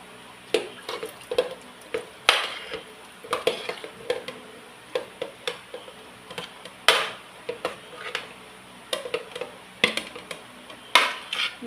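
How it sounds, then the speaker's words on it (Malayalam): Cooked jackfruit is scooped into a pressure cooker lined with curry leaves, giving a run of irregular metal clinks, scrapes and spoon knocks, close and fairly loud against a quiet kitchen background. "ഇനി ഇത് വേവിക്കാനായിട്ട് ഈ കുക്കറിലോട്ട് ട്രാൻസ്ഫർ ചെയ്യാം"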